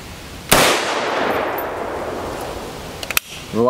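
A single sharp, loud rifle shot from an M1A rings out against an RMA Level IV armor plate on an outdoor range, leaving a long decaying reverberant tail, then a few small clicks before a voice begins.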